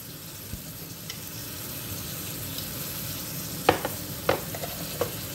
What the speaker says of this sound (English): You're going to let them get a little more brown and sizzly